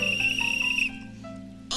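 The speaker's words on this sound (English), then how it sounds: "You blow a whistle" A single bright, sustained whistle tone sounds in a children's show pond scene, ringing steadily for under a second before cutting off to quieter background.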